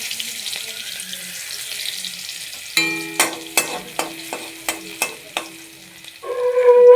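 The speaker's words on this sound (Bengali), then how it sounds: "কালো জিরে আর রসুন ফোড়ন দিয়ে শাকটা চাপাবো।" Black cumin seeds and garlic go into hot oil for frying greens. After a quiet start, a ladle clanks in a steady stirring rhythm, then a loud sizzle swells at the end.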